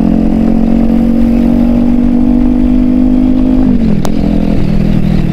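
A Kawasaki Ninja 400 motorcycle accelerating to overtake on the road, a loud, close engine drone holding a steady pitch before dropping as it shifts near the end, mixed with heavy wind rush and no talking.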